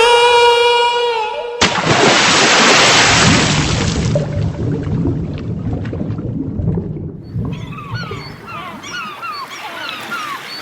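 Rough, stormy ocean waves crash in with a sudden loud roar after a few seconds of soft melodic music, then churn on as a steady surging wash that slowly eases, with faint chirping sounds near the end.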